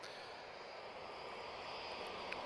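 A TAP Portugal Airbus A321neo departs Lisbon Airport, a faint, distant, steady jet rumble and hiss that holds evenly for a couple of seconds.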